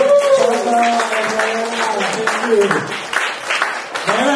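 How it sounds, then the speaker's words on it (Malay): An audience at a fitness talk breaks into applause, a short burst of clapping mixed with a speaking voice over it. "Yes, tepukan for Champ."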